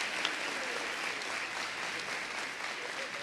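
A church congregation claps steadily throughout, a dense wash of applause at moderate level with no voices on top.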